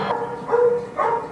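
A dog barks three times in quick succession, loud and close, each bark short and sharp with brief gaps between them.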